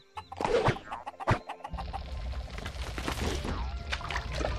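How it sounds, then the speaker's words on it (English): Chickens cluck in the Shrek 2 video game amid a busy game soundscape, several short clucks and squawks over clattering effects and background noise, with some talk in the mix. "there's chickens all over the place."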